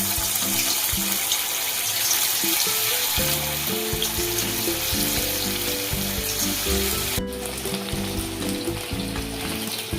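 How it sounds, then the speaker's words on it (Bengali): Chicken pieces fry in hot white oil in a wok, giving a loud, steady sizzle and crackle throughout with no talking, the tone shifting slightly near the end as the pieces are turned. "চিকেনগুলোকে উল্টে পাল্টে লাল লাল করে ভেজে নিতে হবে।"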